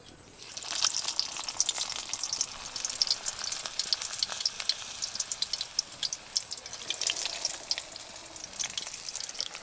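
Green chili bajjis in batter deep-frying in a pan of hot oil, a steady dense crackling sizzle with fine spitting pops that runs on continuously at close range with no talk.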